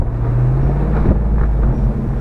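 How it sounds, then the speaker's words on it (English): A Jeep Wrangler JK engine rumbles low and steady in first gear while descending a hill off-road, a close continuous drone with no talk. "I've actually got to throttle it to go down this hill."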